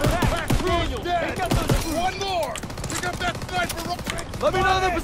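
Battle noise in the video game Call of Duty: WWII, with scattered shots and clatter beneath loud, overlapping voices and shouted speech that dominate throughout.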